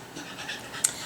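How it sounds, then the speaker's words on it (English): A dog lying on carpet pants softly and rapidly nearby, a quiet steady breathy rhythm with a brief sharper sound near the end. "just kind of rolling around on the carpet panting"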